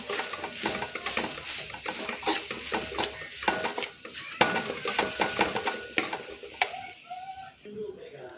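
A coconut milk mixture with grated fresh coconut sizzles in a pan while a spoon stirs and scrapes it, producing a steady crackle with clinking utensil sounds and brief faint voices near the end.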